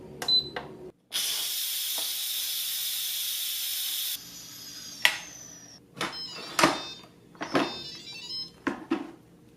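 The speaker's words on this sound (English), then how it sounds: "It's been 10 minutes, now we can release the steam." A loud, steady hiss of steam rushes out of an Instant Pot Duo Mini pressure cooker for about three seconds, then cuts off, followed by clicks, clatters and light handling sounds.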